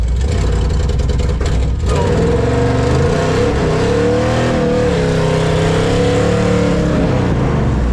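A 1971 Chevelle with a swapped-in 396 V8 and straight pipes rumbles loud and close, a deep burbling idle that rises into a rev and holds at a raw, throaty drone.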